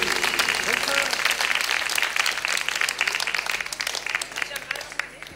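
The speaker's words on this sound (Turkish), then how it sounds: "O güzel alkışlarınız efendim." Audience applause after a Turkish folk song, loud, dense clapping from a crowd that slowly thins and fades toward the end while a voice talks.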